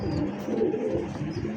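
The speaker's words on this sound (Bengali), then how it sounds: "হ্যাঁ 3 পিস কবুতর ফ্যামিলি প্যাকেজ ইনশাআল্লাহ।" Domestic pigeons offered for sale coo softly in a low, throaty, rolling rhythm, close by and alone, for a brief moment.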